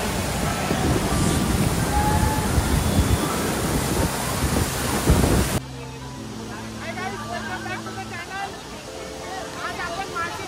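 A large monsoon waterfall at Malshej Ghat roars loud and broad for the first half, then the scene cuts to a quieter spot where a person talks.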